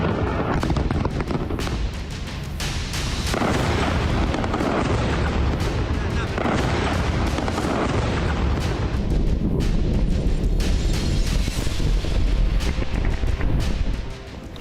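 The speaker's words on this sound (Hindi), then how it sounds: "मौत के धमाकों से फिर दहला लेबनान।" Heavy, continuous rumbling blasts from Israeli airstrikes on Lebanon roll on for many seconds, loud and dense with booming impacts merging into a sustained roar before cutting off near the end.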